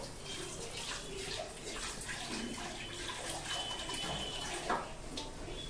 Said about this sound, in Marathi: मी ह्या दुधाच्या भांड्यातच थोडंसं पाणी घालून घेते